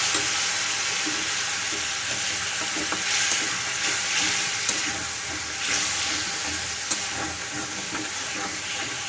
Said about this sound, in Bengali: তো পরে কম করে জল ঢেলে দিচ্ছি যাতে মশলাটা লেগে না যায়।